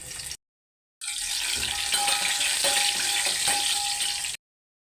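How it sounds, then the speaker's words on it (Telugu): Crushed garlic, dried red chillies, curry leaves and dal fry in two spoons of hot oil for pappu charu, giving a loud continuous close sizzle with faint crackles after a brief silent gap. "పోపులు ఒకసారి వేసేస్తున్నాను. చిట్పెట్లు ఆడాలన్నమాట"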